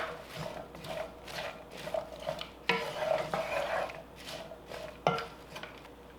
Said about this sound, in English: So just stir this around.